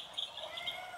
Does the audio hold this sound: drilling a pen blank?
no